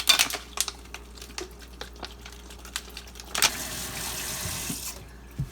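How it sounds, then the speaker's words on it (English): A Thuringian water hone for razor sharpening is rinsed under a running tap, water splashing and pattering over the stone close by, with a brief louder gush before the flow stops. "I'm going to rinse the stone off,"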